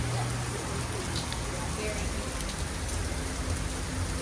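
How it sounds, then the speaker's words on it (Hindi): Steady, heavy rain falls without a break near a village road on the way to a restaurant, forming a dense, even hiss that fills the whole stretch. "हम लोग रेस्टोरेंट जा ही रहे थे कि बारिश हो गई"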